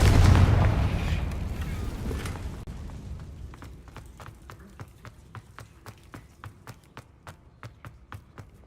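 A Confringo blasting spell in Hogwarts Legacy goes off in a loud burst that rumbles and fades over a few seconds, followed by a run of evenly spaced sharp footstep-like taps.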